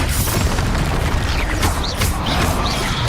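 A Confringo blasting spell goes off in the Hogwarts Legacy video game, a dense continuous roar of explosive booms and crackling bursts, loud and close and with no gaps across the whole stretch.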